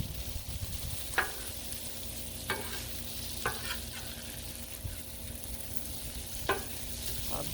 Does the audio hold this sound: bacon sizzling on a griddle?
yes